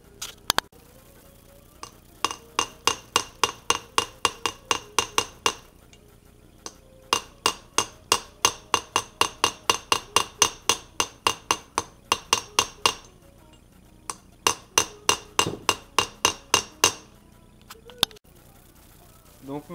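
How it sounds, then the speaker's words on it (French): Hammer blows riveting the locking mechanism of a handmade Damascus steel knife, struck as a long series of sharp metallic taps in quick rhythmic bursts with brief pauses, close and clear. "Donc maintenant j'essaye de rifter le système de verrouillage."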